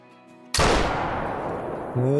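A single loud, close rifle shot from a .470 fired at a bull elk in the hunting game Call of the Wild, its boom cutting through quiet ambient music and rolling off in a long echoing tail.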